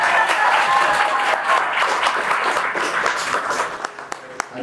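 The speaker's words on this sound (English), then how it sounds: "And also, Francesco, give him a round of applause as well." Sustained applause from a sizable wedding audience, dense clapping that stays steady and then thins out toward the end.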